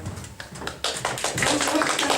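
Applause from an improv show audience starts as a few scattered claps and swells into fuller clapping over about two seconds, fairly close, with no voices over it.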